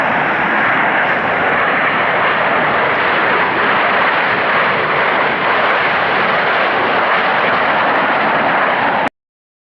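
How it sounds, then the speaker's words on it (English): Airshow jets over the Comox Valley, a loud continuous roar of engine noise filling the air overhead, steady and intense before cutting off abruptly. "Skylar May loves watching the planes."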